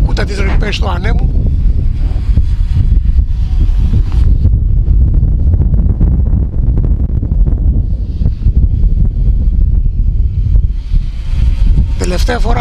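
Strong gusts of wind buffet the microphone of a flying Xiaomi Fimi A3 drone in a steady roar, with brief whistling flutters near the start and end.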